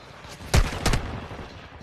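Gunfire in a shooter video game: two sharp, close reports about a third of a second apart with bright echoing tails, then fading ambient noise and no talk.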